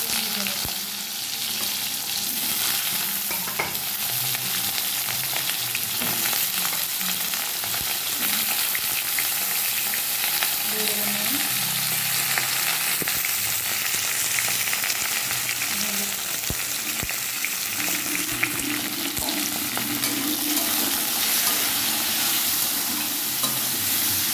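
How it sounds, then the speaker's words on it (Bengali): Vegetables fry in mustard oil in a wok, giving a constant close sizzle and crackle with stirring scrapes throughout, no voices over the cooking. "এ পাশে কড়াইতে সর্ষের তেল দিয়ে প্রথমে আমি সবজিগুলোকে একটু ভেজে নেব"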